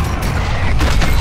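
Sniper gunfire in a squad-based shooter video game rings out as a dense, booming burst of shots, loud and close, over about a second with no talk.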